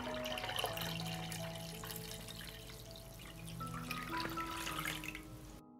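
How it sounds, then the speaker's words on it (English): Water is poured into a pot holding glass jars, a soft continuous splashing and trickle with faint ringing tones from the jars, fairly quiet throughout. "I pour water into the pot up to the height of the lid."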